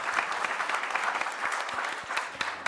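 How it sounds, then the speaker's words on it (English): An audience claps steadily at a business conference on payment market changes, dense and even applause filling the room without pause. "round of applause"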